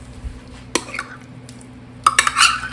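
Mayonnaise and sour cream being stirred into corn in a bowl, with a couple of isolated spoon clicks followed by a quick burst of wet scraping and clinking, close and fairly loud, no talking.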